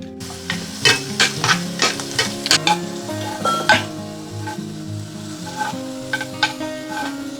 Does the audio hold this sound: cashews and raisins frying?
yes